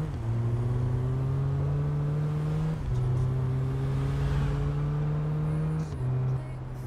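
A slow, old car in the Big Ambitions game drives along with a steady engine drone, shifting gears twice at a constant near level.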